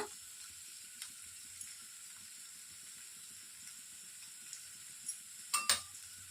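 Masala for a coconut dosa chutney fries in a pan with tamarind and salt, giving a faint steady hiss with scattered soft pops and a couple of louder clicks near the end.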